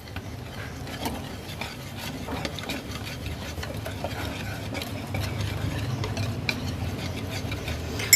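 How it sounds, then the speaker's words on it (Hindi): Gram flour batter for brinjal pakora is whisked steadily in a bowl, a quick continuous scraping and slapping rhythm, close and moderately quiet, with no voices. "इसको 3-4 मिनट एक ही रुख पे आपने अच्छे से फेंटना है"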